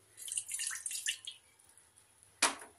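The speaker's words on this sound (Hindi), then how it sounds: "इस तरह आपको चाय बनानी है, पानी डाल देना है" Water is poured into a pot to make tea, giving about a second of light splashing and trickling, then a brief gap and a single sharp clank near the end. No one speaks.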